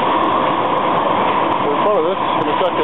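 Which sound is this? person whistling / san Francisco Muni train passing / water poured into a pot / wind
san Francisco Muni train passing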